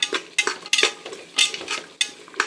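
Chickpeas and green peas being sautéed in a pan for chana biryani, with a series of sharp scraping and clinking spoon strokes against the metal in an irregular rhythm, close and moderately loud, no talking.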